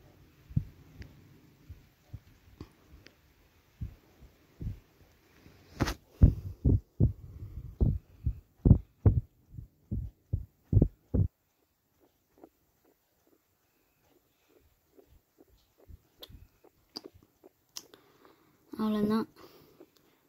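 A tailoring sewing machine stitching a petticoat gives a run of close, evenly spaced thumping stitch beats that speed up and then stop, followed by sparse faint clicks and a short burst of speech.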